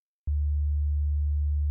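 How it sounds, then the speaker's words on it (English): A basic sine wave played from an Octatrack sampler starts abruptly and holds as a steady, loud, pure low hum with no other sounds. "Nice basic sine wave."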